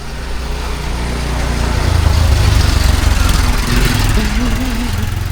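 A steady engine idle from an old motorbike bought new in 2011, a continuous low rumble that swells slightly midway, with some background sound layered over it.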